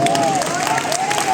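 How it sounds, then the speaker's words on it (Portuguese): A church congregation breaks into lively applause during a family worship service, dense steady clapping and crowd noise filling the whole moment with voices mixed in. "Dá uma salva de palmas bem alegre"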